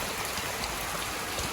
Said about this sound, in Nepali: पानी झरेको बेलामा यो तुर्साको हाउसिङको हालत चाहिँ यस्तो हुन्छ खोला भइरहेछ